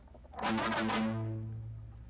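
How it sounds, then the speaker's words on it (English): Distorted electric guitar plays palm-muted open A pedal tones, a short burst of chugged notes that rings out into a sustained, gradually fading tone, alone. "The verse starts with 4 pedal tones"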